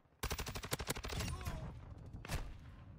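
Rapid automatic gunfire from an STB 556 rifle in Call of Duty Modern Warfare 2 rattles out in a fast close burst, then trails into a few scattered shots.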